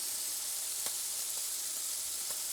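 Onion and pepper sizzle steadily in a pot while goulash is layered, a soft continuous hiss with a few faint clinks, no voices.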